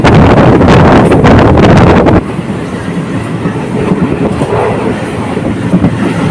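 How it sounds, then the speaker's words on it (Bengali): Train running fast past tea gardens between Bamanhat and Hasimara, a loud rushing rumble with clattering wheels and heavy wind buffeting the microphone, easing to a lower steady roar partway through. "দ্রুত গতিতে ট্রেন ছুটে চলছে"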